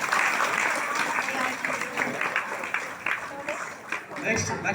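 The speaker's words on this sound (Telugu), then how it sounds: "చప్పట్లు ఘనంగా" Sustained applause from a crowd fills the whole stretch, a dense, steady wash of many hands clapping at an honoring ceremony, loud and close with no pause.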